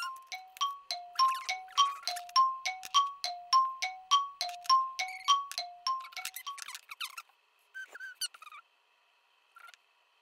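A xun, a clay vessel flute, plays a run of short, clear repeated notes in a steady rhythm, then a few scattered higher tones before trailing off into near silence; no talking.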